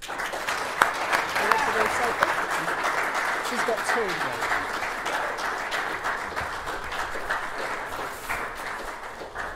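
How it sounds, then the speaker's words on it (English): Audience at a sixth form prize giving applauding, a steady mass of clapping sustained for nearly ten seconds, with a few sharper individual claps and a brief spoken remark over it. "a round of applause"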